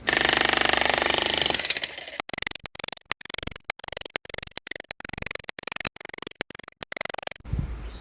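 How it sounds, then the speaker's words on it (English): A jackhammer breaking up concrete pounds away in rapid bursts, each run of blows broken by short pauses, loud and close, after a few seconds of dense grinding noise. "Go and get the jackhammer. Break this sucker up."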